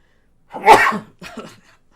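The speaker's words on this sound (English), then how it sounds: "I'm going to sneeze very soon." A single loud, close sneeze bursts out, followed by a softer sniff or breath, then quiet.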